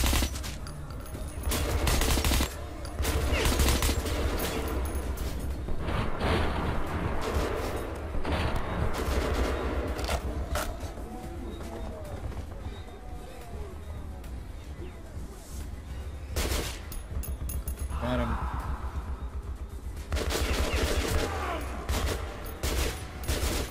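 Dense bursts of gunfire from the Metro 2033 Redux video game, repeated volleys and rapid automatic fire running almost continuously with brief lulls, loud and close, with game effects layered underneath.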